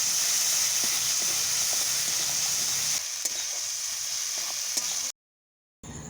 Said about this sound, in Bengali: অল্প জল দিয়ে ভালোভাবে মশলা কষে নেব